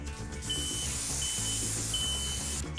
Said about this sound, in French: on peut faire un concert de détecteurs de fumée